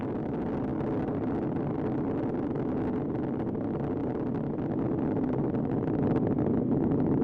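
Space Shuttle Atlantis on the STS-132 launch, its three main engines throttled down near maximum dynamic pressure, heard as a steady, dense distant roar with no breaks, slightly building toward the end.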